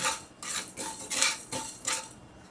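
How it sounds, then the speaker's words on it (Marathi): Coriander seeds, cumin and peppercorns dry-roasting in a pan on a gas stove, stirred with repeated bright metallic scrapes and clinks of a utensil against the pan, about five strokes in a loose rhythm, close and clear. "त्याच्यात आता धणे जिरे मिरे घालून भाजून घेणार आहे चांगले"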